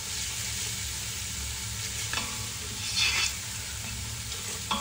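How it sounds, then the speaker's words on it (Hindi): Garlic and ginger frying gently on low heat for mutton paya, a steady soft sizzle with occasional stirring scrapes, close and moderately quiet with no voices. "लहसुन अदरक को 2-3 मिनट तक भूनेंगे, ज़रा कच्चापन खत्म हो जाए"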